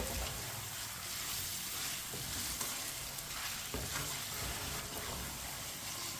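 Chicken frying over a high flame in a pan for matar chicken, stirred with a spoon, giving a steady close sizzle broken by scraping stirs throughout.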